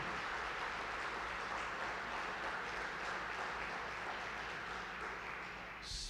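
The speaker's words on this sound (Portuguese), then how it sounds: "Se for aplaudir, aplauda com força." Sustained clapping from a large crowd, steady and dense throughout, heard at a moderate distance with no voices standing out.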